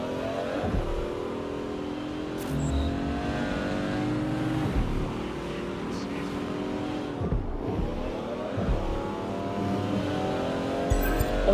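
A car in the video game Watch Dogs Legion drives continuously, its engine drone rising and falling with revs and shifting tones, with no voices over it.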